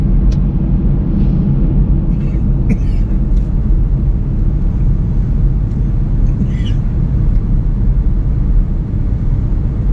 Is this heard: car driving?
yes